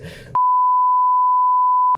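Single continuous censor bleep tone lasting about a second and a half, loud and steady, cutting off speech from an Indonesian interview, with a brief burst of voice just before it.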